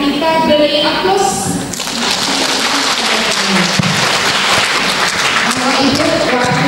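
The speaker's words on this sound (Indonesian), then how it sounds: "kita beri aplaus" An audience at a talk for mothers breaks into sustained applause, a steady wash of many hands clapping that fills the room after a short stretch of amplified speech, continuing evenly to the end.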